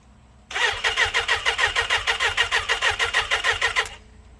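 A lowered 2006 Suzuki Katana motorcycle engine cranks and catches, then runs for about three seconds with a fast, steady pulsing beat before cutting off abruptly; close and loud, with no voices.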